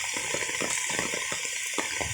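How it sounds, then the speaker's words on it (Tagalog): Steady heavy rain pours down in a dense, unbroken hiss, with water splashing and rushing nearby. "Lakas ng ulan."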